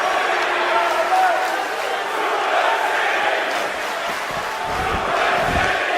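A large arena crowd roars and cheers steadily during a Brock Lesnar match in the WWE 2K18 wrestling video game, a continuous loud wash of voices with commentary talking over it throughout.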